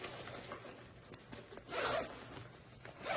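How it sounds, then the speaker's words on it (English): A backpack zipper is pulled open in a few quick rasping strokes, one louder burst near the middle, close by and without talk. "if I can find the zipper."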